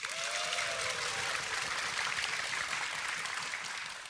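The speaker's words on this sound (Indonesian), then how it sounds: "sekali lagi beri tepuk tangan untuk Mama Lauren" A studio audience applauds a guest, Mama Lauren, on an Indonesian evening talk show: a steady, fairly quiet wash of clapping with a brief tonal whistle-like sound early on, no speech.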